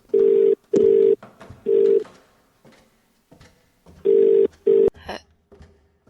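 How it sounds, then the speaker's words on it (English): A telephone in the video game The Cat Lady rings in loud, even electronic bursts, three in a row and then two more after a pause, followed by faint clicks and noise. "Answer the phone."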